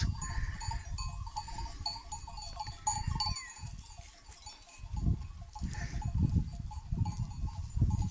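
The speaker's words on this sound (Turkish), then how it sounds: "Şimdi aşağıda evdekiler meliyor. Onlar da ona meliyor." Sheep bleating on a mountain pasture during summer grazing, several calls rising over a steady rustle of the flock and a low rumble, some bleats nearby and others farther off, with no talk.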